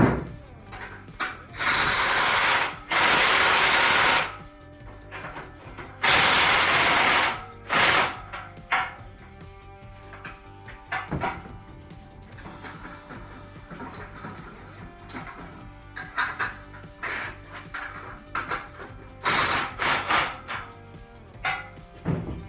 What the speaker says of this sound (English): Got my impact wrench with a deep socket.